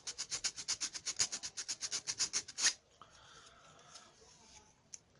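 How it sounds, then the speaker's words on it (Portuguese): A worn, oxidized positive battery contact inside a TV remote control is sanded in about eighteen quick, even rasping strokes that stop abruptly, leaving only faint handling noises. "Eu vou aproveitar e lixar esse contato positivo onde vai a bateria aqui."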